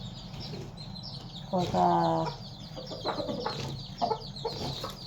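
Chicken clucking in a rural Thai yard, with several short harmonic calls, one louder burst near the middle and smaller clucks after it, over steady outdoor background noise and a brief spoken word.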